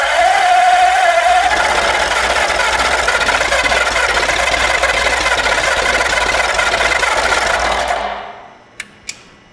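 A flathead V8 engine on a homemade run stand roars at full throttle, a loud sustained rasping drone with a faint squeal early on, before it suddenly cuts off and leaves two sharp clicks in the quiet.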